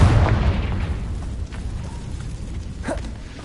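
An explosion from the Confringo fire spell in Hogwarts Legacy on PlayStation 4 Pro: a loud initial blast that quickly decays into a rumbling tail, with a smaller burst near the end.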